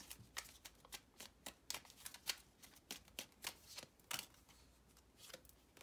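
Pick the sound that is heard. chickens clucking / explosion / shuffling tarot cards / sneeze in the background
shuffling tarot cards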